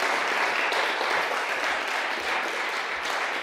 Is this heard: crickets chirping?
no